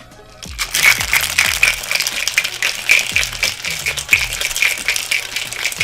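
A cocktail is shaken vigorously in a shaker, ice rattling in a fast continuous rhythm for several seconds, loud and close, with no voices over it.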